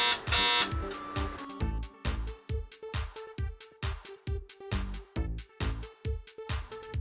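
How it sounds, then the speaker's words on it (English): A loud electronic buzzer alarm sounds in a rapid series of repeated beeps, pulsing steadily for several seconds with no talking. "you can hold the same switch down until the unit alarms."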